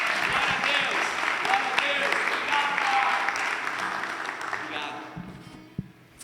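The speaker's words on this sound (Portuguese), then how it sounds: "vamos aplaudir a Jesus bem alto nessa noite" A church congregation applauds loudly during an evening service, a dense wash of clapping with voices mixed in that fades out toward the end.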